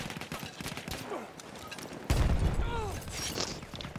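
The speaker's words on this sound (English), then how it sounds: "Things are exploding." Explosions and gunfire in a shooter video game: a sustained rattle of shots, then a sudden loud boom midway that leaves a heavier rumble and more firing behind it, with faint voice-like game sounds in the mix.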